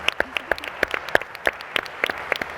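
Audience clapping at a Bitcoin conference panel, a scattered round of sharp, uneven claps building into applause, moderately loud and close, with no talking over it.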